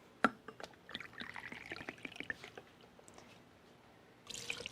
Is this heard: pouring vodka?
yes